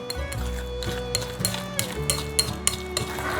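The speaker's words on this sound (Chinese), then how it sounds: "把所有食材搅拌均匀" A spoon stirs a vegan filling mixed with starch and sesame oil, giving repeated scraping clinks against the bowl over a soft sizzle and a steady low hum. No voices are heard.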